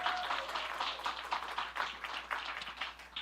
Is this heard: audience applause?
yes